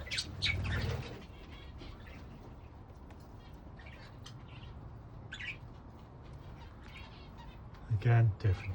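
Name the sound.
budgies chirping and flapping in an aviary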